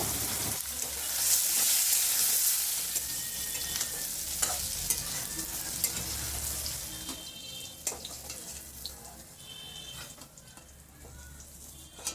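Paneer stirred and fried in a pan: a spatula scrapes and stirs over a continuous sizzle, with occasional clinks and splashes, loudest early and gradually quieting.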